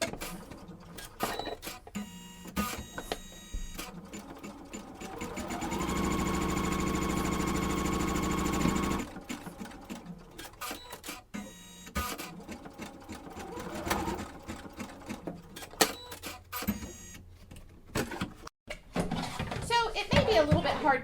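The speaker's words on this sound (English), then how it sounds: "So I'm going to go ahead and stitch out my very first" An embroidery-only machine stitches out a design, a steady, rapid mechanical whirring that runs for several seconds in the middle, close and moderately loud, with a person talking before and after.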